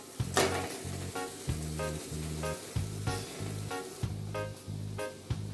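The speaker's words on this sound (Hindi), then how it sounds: "जो कढ़ाई में है तेल लगा हुआ है उसी में ही मेथी रोस्ट हो जाएगी" Fenugreek leaves roast in a lightly oiled wok, giving a soft sizzle broken by repeated scraping stirs in an uneven rhythm, close by and with no one talking.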